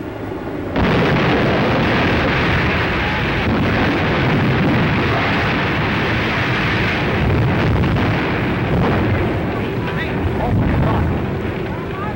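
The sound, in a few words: airship exploding and burning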